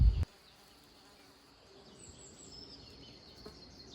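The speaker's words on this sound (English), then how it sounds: "It is alive with the buzzing of bees." A horse chestnut tree hums with bees, their buzzing a faint, steady drone that carries on alone after a brief thump at the start.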